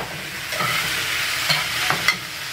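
Vegetables fry steadily in a pan with a constant hiss, and a utensil scrapes through them a few times. No one speaks.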